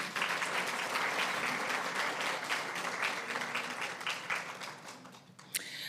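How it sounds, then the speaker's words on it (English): An audience at a women's award ceremony gives Dr. Kirkland a round of applause, a steady crowd of clapping hands that thins slightly toward the end, with a sharp knock near the close. "Let's please give Dr. Kirkland another round of applause."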